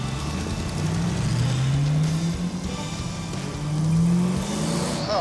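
An off-road vehicle crawling over rocks, its engine revving in rising and falling sweeps, moderately close and steady with no talk over it.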